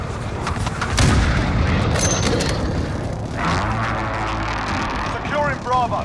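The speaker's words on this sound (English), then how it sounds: "Friendly precision airstrike inbound." Booming blasts and gunfire during a Ground War match on Karst River Quarry in Call of Duty Modern Warfare, with repeated explosive impacts and crackling shots mixed under a game announcer's voice.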